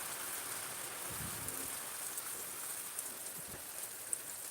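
Dense, heavy sudden unseasonal rain over farmland pattering steadily on surfaces, with a few louder drops standing out.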